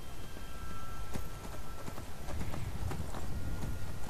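Steady galloping hoofbeats from a horse being ridden in Skyrim, a fast, repetitive clip-clop that stays close and loud throughout over a low background wash.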